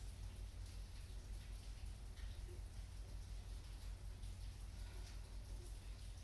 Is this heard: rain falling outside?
yes